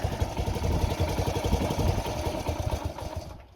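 A 1965 Honda S65 motorcycle idles close by, its small engine putting out a rapid, even, slightly uneven-throbbing putter that fades at the end.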